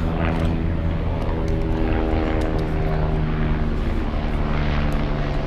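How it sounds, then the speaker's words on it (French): A loud propeller aircraft drones close by near the beach at Kamakura and Enoshima, Japan, its steady engine roar filling the whole stretch with no voices. "Avec un magnifique hélico ou je sais pas quoi qui passe à côté."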